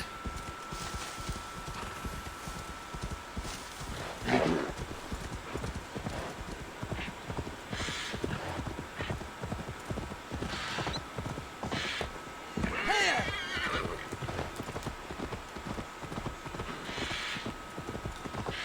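Horse hooves clip-clop steadily in Assassin's Creed Valhalla, a continuous trotting rhythm with a couple of louder thumps and scattered bright game effects layered on top.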